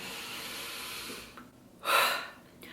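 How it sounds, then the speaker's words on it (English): A single deep breath, a soft airy inhale followed by a stronger, rushing exhale, close and intimate, heard alone with no talking. "Take a breath with me."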